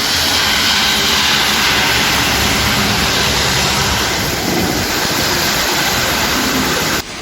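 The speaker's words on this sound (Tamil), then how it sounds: "பெரம்பலூர் மாவட்டம் குன்னம் சுற்றுவட்டார பகுதிகளில் சூறைக்காற்றுடன் மழை பெய்தது" Heavy rain driven by strong squalling wind around Kunnam in Perambalur district makes a loud, steady, broadband roar that continues unbroken for about seven seconds before it cuts off abruptly.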